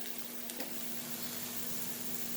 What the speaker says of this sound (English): we're going to let this fry